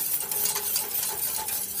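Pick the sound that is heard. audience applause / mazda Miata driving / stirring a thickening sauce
stirring a thickening sauce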